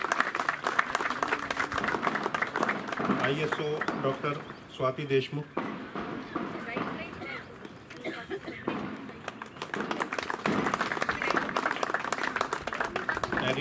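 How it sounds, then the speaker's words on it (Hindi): Audience applause at a CRPF Group Centre tree-planting event organised with the Inner Wheel Club of Nigdi Pride, dense clapping that dips midway while a speaker's voice carries over it, then swells again. "तालियां बजती रहें."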